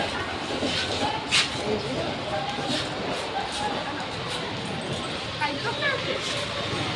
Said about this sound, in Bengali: আমরা এখন উলুবেড়া স্টেশনে চলে এসেছি